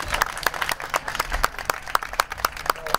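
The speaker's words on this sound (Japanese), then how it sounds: "最後まで決戦を戦い抜いた両チームの選手に今一度大きな拍手をお願いいたします。" Applause rises for the players of both teams at the closing awards ceremony of a tournament, a loud rhythmic clapping with distinct claps at a steady beat from a crowd.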